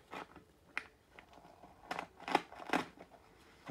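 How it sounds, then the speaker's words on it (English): Scissors snipping through insulation material for a garage studio build, a handful of short crisp cuts and crunches at close range with no talking. "You got to cut your insulation"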